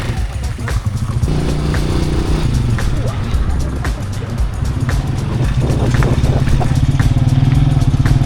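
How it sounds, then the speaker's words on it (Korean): A motorcycle engine idles and rumbles close by, steady and loud throughout, with clatter and people talking over it. "아, 다른 오토바이를 데리고 오신 거구나. 우리가 탈 오토바이를."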